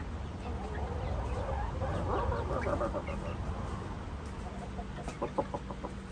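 A pet chicken clucks among soft background noise, its short repeated notes growing clearer toward the end, fairly close but moderate in level.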